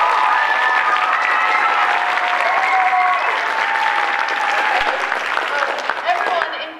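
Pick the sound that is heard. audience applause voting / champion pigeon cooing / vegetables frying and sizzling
audience applause voting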